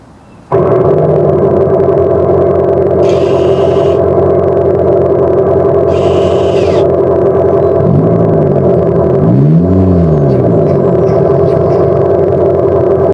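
An Abarth 500e electric car's sound generator starts up, a loud synthetic engine-like drone with steady tonal layers, rising and falling swoops as if revving, heard close and alone.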